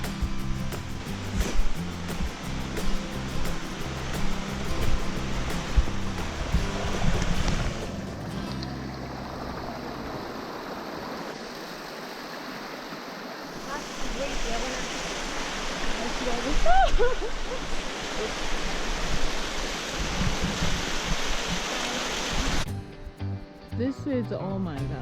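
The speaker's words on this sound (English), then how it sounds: "Oh, small waterfall." A small waterfall on a forested hiking trail near Heather Lake in Washington gives a continuous broadband rush of falling water, steady and fairly close, with people talking over it at times.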